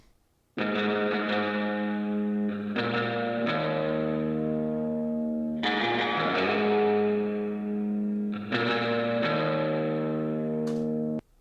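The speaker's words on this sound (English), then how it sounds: "It sounds like a tremolo type guitar in a spring reverb." A clean electric guitar with tremolo and spring reverb plays sparse sustained chords with a wobbling, pulsing volume and a splashy, echoing reverb tail, with no voices.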